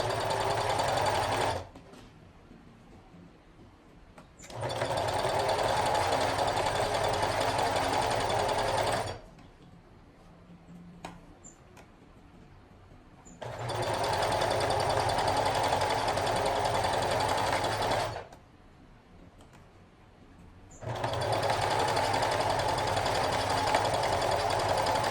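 A sewing machine stitches pieces of a clothing set in loud, steady mechanical bursts of several seconds each, separated by quiet pauses while the fabric is adjusted.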